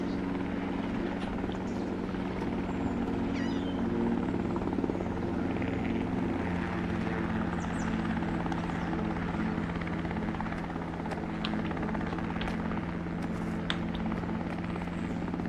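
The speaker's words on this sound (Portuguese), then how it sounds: "Tô vendo um helicóptero." A helicopter in Drug Dealer Simulator 2 drones continuously with a steady rotor and engine hum, holding an even level throughout with no talk.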